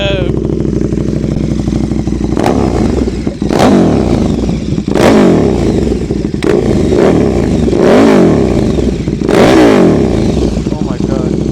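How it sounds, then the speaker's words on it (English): A KTM 1290 Duke motorcycle engine with a mid pipe revs hard again and again, loud and close, rising to sharp high-pitched peaks and dropping back to a rumbling idle between bursts. "we're gonna get some crazy revs in it"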